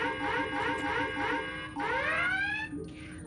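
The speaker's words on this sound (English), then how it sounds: "I'm really glad you got that new dubstep alarm" A dubstep-style alarm aboard a starship bridge in the Star Trek Bridge Crew VR game: rising, wobbling synth sweeps repeat in quick bursts, then one long upward whoop ends it, moderately loud, with no talk over it.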